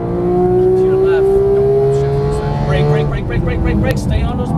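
A Porsche 911 GT accelerating on a Las Vegas race track, engine note climbing steadily and loud up close, with an instructor talking over it.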